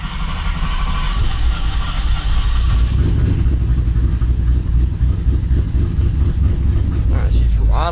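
A muscle truck engine fitted with Holley Sniper fuel injection cranks and catches, then idles with a deep, steady, slightly hunting rumble; people talk briefly at the start.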